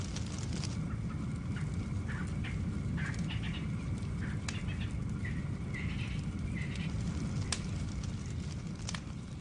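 Scattered bird calls and chirps over the steady roar and crackle of a fast-moving grassland fire burning dry vegetation, the calls brief and moderately distant.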